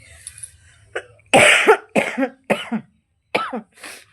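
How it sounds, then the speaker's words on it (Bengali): A person with a bad cold coughs in a series of harsh, close bursts, about six of them spaced unevenly over four seconds, with short silences between. "কাশি যখন উঠছে তখন জীবনটা মনে হচ্ছে যায় যায়।"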